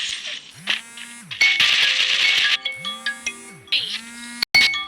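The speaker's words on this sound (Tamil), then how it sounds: "ஃப்ரெண்ட்ஸ் திருப்பி ஃபோன் வருது" A phone ringtone plays a bright, melodic electronic tune in repeating phrases with sliding tones, loud and close, with no talk over it.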